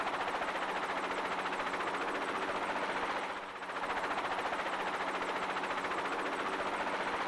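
Steady, loud broadband wind roar from the open hatch of an aircraft in a Psycho-Pass video game scene, constant throughout with a brief dip near the middle and no speech.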